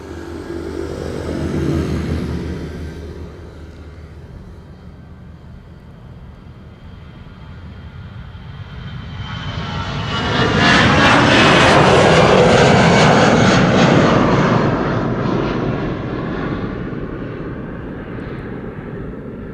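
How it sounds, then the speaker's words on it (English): An EasyJet airliner takes off at Amsterdam Schiphol Airport, a faint rumble at first that swells into a loud, broad engine roar, peaks, and then slowly fades as the jet climbs away. "Coming this way is EasyJet. EasyJet to Edinburgh."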